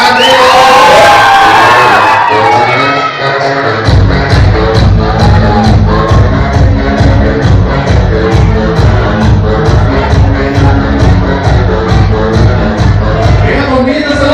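A party crowd at a Latin dance fiesta shouts and cheers loudly, with an excited roar that gives way to pounding, steady music, the crowd noise continuing underneath.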